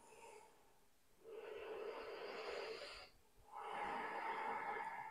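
Slow, deep breaths during a beginner yoga session: a soft, airy inhale and exhale, then two longer and louder breathy sweeps separated by brief pauses, close and quiet.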